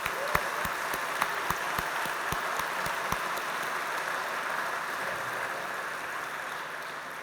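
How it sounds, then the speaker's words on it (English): A gala dinner crowd gives a round of applause for an event communications team. The clapping is a soft, even wash heard from across the room, with a few sharp, distinct claps standing out near the start. "please can we get a round of applause for Dale Hall, our role modeling manager, and the rest of the event comms team"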